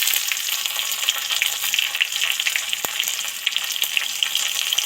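Chopped onion and crushed garlic frying in hot oil, a dense, even sizzle close up with a brief clatter partway through and no talking.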